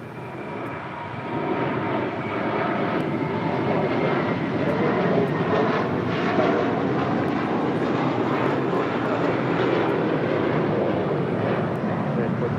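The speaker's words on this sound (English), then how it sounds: "That is Fly Like You Minted, departing to JFK on a 5-year-old A321, JetBlue Airways Flight 324." A five-year-old JetBlue Airways Airbus A321 departs LAX, its jet engines building from a quieter start into a loud, broad, steady roar that holds to the end.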